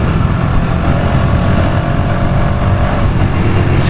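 A motorcycle engine holds a steady high-revving drone at around 6000 RPM while riding in fourth gear, loud and close, with constant wind and road rumble underneath.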